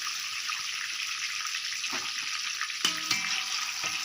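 Quail pieces fry in hot oil with curry leaves, giving a steady, close bubbling sizzle that runs throughout, with a brief louder spatter or clink near the end.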